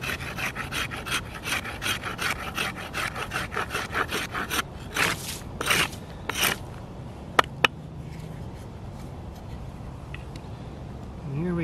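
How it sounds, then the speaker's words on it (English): Someone scrapes white ice off the top of frozen lake ice. A rapid series of rough rasping strokes sounds close, then a few slower scrapes and a couple of sharp knocks follow, with outdoor quiet underneath. "I'm going to scrape off the white ice off the top down to the black ice"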